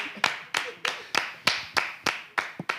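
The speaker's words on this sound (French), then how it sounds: "Tu peux applaudir pour toi-même" A woman claps for herself, about ten sharp, close hand claps in a brisk, fairly even rhythm with short gaps between them and no talk over them.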